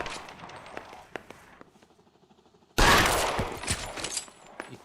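Gunshots in the detective game L.A. Noire: scattered sharp shots at first, a brief quieter lull, then a sudden loud, dense burst of rapid gunfire that keeps rattling to the end.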